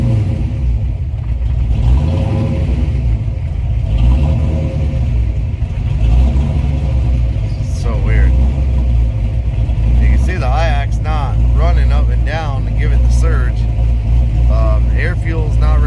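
A Ford Mustang 302 engine runs nearby with a loud, steady low rumble and a slight surging wobble in its idle, while someone talks over it.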